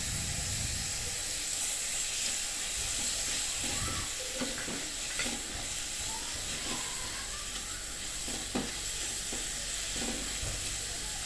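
Sliced button mushrooms sautéing in a pan, giving a steady hiss and sizzle with scattered soft crackles and stirring clatter throughout.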